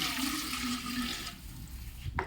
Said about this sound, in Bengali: এই যে পাইলার মধ্যে পানিটা দিতেছি